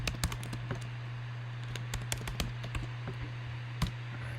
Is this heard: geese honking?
no